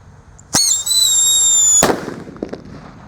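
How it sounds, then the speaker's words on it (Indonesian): A Whistling Thunder firecracker rocket gives a loud whistling shriek that rises, then a sharp bang cuts it off, followed by a few faint crackles fading away. "kita akan menyalakan mercon yang suaranya menggelegar"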